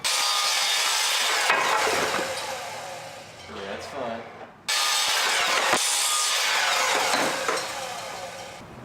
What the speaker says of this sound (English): you're cutting round stock like this, like a dowel, because this blade is spinning one direction